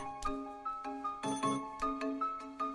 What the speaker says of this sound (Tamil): ஃபோன் தான்.